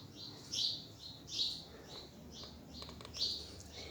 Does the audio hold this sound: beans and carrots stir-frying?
no